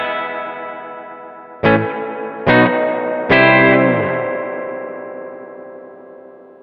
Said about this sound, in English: And now a super long spring here at maximum.